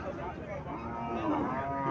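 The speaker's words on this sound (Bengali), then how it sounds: "এখানে আরও একটা গাভি দেখা যাচ্ছে সাইবল জাতের গাভিটা" A Sahiwal cow lows nearby, one long, loud, drawn-out moo filling the moment on a farm.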